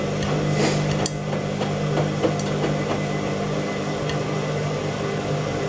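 An Indesit IWME146 integrated washing machine on its final spin at 600 RPM, a steady, fairly loud whirring hum with faint irregular knocks and thumps from an unbalanced load, no talk.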